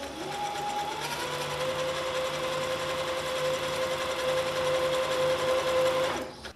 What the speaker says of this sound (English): as I sew, I'll make sure that the zigzag stays within the seam allowance and doesn't cross over my sewing line into my pant